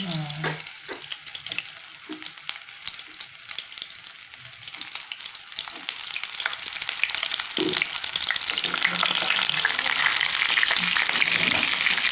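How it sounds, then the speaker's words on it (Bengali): Slit pointed gourds frying in hot oil in a home kitchen, a steady crackling sizzle that grows louder and denser toward the end, with scattered sharper pops and stirring. "এই পটলগুলো এরকম চিড়ে নিয়ে এরকম পটলগুলো ভাজতে হবে।"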